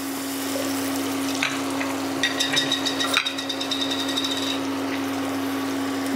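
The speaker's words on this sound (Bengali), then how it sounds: "দিয়ে এটাকে একটু ভাজা ভাজা করব।" Spices with salt and cumin powder frying in oil in a pan for a Bengali hog plum egg curry, a steady close sizzle with brief scraping and stirring clatters in the middle, no talking.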